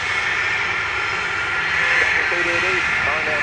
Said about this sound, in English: Almost reach out and touch that plane there.